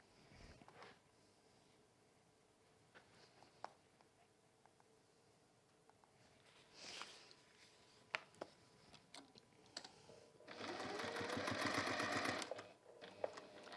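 A sewing machine top-stitches a bag in a brief, quiet rapid run near the end, after scattered soft handling clicks and rustles.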